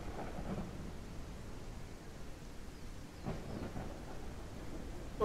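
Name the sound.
heavy rain and thunder in video game Ranch Simulator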